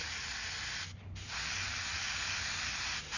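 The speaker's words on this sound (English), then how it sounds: "Okay, now I got my white and silver mixture going here. I start spraying in those little outlines." Airbrush spraying a white and silver paint mixture with an HP Micron brush, a steady close hiss broken by a brief pause, then resuming and stopping again just before the end.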